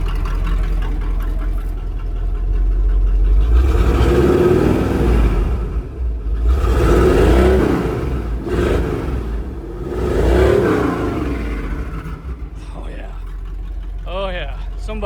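1985 Chevrolet K5 Blazer with exhaust dumps and restrictor plates removed, a deep engine rumble swelling in several revving surges and easing between them, with someone talking over it.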